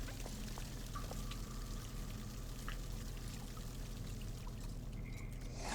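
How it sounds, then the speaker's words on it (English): Rushing water in the video game Little Goody Two Shoes makes a loud, steady wash that runs unbroken throughout, with a few faint tones over it and no one talking. "Rushing water, son."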